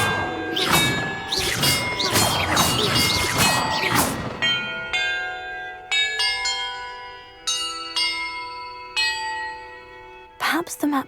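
Bells ring out in the Hogwarts Legacy video game, a few heavy crashing strikes with a busy clang at first, then single bright tolls spaced about every second or two, each leaving a long shimmering ring, with a final quick double strike.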